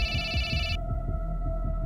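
A phone rings with an incoming call, a bright electronic ringtone burst that cuts off abruptly under a second, leaving a steady hum and low rhythmic thumps, fairly loud and close with no voices.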